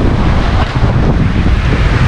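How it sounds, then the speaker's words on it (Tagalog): Strong ocean surf roars continuously with heavy wind buffeting the microphone, loud and close, off the coast of Mindoro, with no voices. "lakas ng alon."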